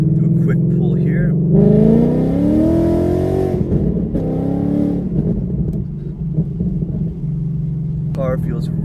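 A tuned Ford Mustang GT with a FBO setup making around 500 wheel horsepower roars through a full-throttle pull, its engine note climbing loud and close before easing off, then settling to a rumbling idle, with brief speech near the end.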